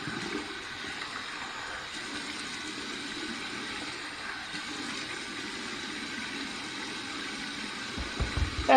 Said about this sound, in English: let me just get a warm water rinse on the head and remove the slickness